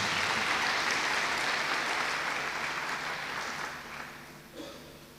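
An audience at an engineering awards event gives a round of applause for recipients. Dense, steady clapping from many hands fills the hall and then gradually thins and fades toward the end.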